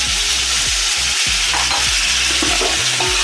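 Spices and meat sizzle and fry loudly in a pot for Afghani pulao, with continuous close crackling and periodic scraping stir strokes, no voices.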